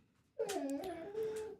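A dog whimpers close by in a single drawn-out, wavering whine that lasts just over a second, heard alone.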